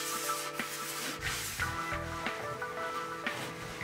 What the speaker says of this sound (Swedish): Låt torka och slipa.